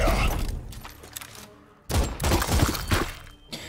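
Gunfire rings out in the video game Chaos Gate, two dense bursts of loud rapid shots with crackling impacts, separated by a brief lull.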